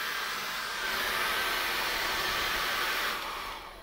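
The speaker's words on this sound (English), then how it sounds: "Now you need to dry this off. I use a hairdryer." A hairdryer blowing on an acrylic sunrise painting, a loud steady whooshing roar with faint hiss that holds evenly, then tapers off near the end.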